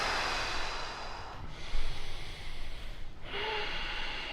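Loud, forceful breaths during a power yoga class: long hissing exhales and inhales, close, with a brief gap between the heavy breaths.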